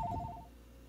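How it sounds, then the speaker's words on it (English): A telephone rings in a home, giving a short burst of rapid electronic trills that fades after half a second, faint against a low room rumble. "oh, I gotta answer the phone."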